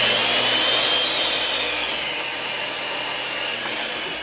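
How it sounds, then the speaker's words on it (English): Steady rasping saw strokes cut through clamped wooden fence pieces, loud and close, running continuously and tapering slightly near the end. "And then I'll measure my dimension and cut all of these to length."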